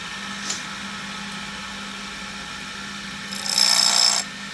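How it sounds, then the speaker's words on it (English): Wood lathe running with a steady hum, then a gentle shear scraping cut on an inside-out turning piece gives a brief hissing scrape near the end; close, no talking. "I'm going to use that same shear scraping cut because I want to take real gentle cuts"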